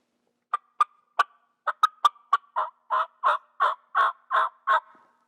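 A multi-reed turkey mouth call with rasp gives a series of about thirteen raspy yelps, starting sharp and clipped, then growing longer and coarser, evenly spaced and up close.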